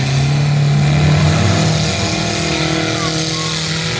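Mini cars' engines run and rev in a demolition derby heat, a loud continuous droning growl with a sustained higher tone, while an announcer talks over the noise.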